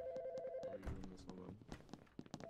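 An in-game telephone rings with a steady electronic trill, which cuts off abruptly and gives way to quiet clicks, taps and soft game sounds.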